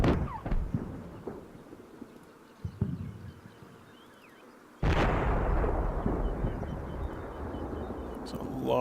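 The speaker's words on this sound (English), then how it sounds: "Lots of secondary explosions as you expect" Secondary explosions from artillery in the wargame Combat Mission Shock Force: scattered sharp blasts and crackling pops, then one loud close detonation that leaves a heavy rumbling roar trailing on.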